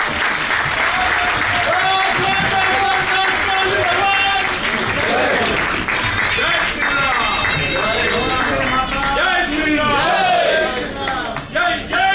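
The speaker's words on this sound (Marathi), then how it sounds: "जोरदार टाळ्यांचा गजर होऊन जाऊ दे." Loud, sustained applause from a large audience at an inauguration ceremony, a dense wall of clapping with crowd noise and voices mixed in throughout.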